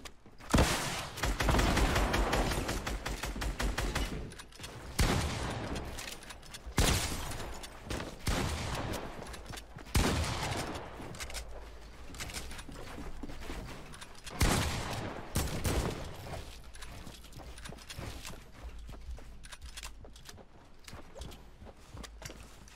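Rapid video game gunfire in a solo arena match: repeated bursts of shots come in loud clusters separated by brief lulls, close and punchy, with footsteps between the volleys.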